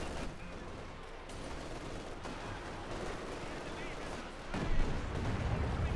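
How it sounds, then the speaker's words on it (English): Rockets pounding a vehicle in a Company of Heroes 2 match, a continuous rumble of distant explosions and gunfire with a heavier burst near the end, under faint battle noise. "Machine being hammered by the rockets."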